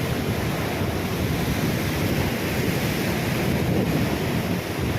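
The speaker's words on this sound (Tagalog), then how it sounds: "Laki ng malalaki ng hampas ng alon." Heavy ocean surf roars continuously during a typhoon, with waves crashing and churning alongside gusty wind buffeting the microphone.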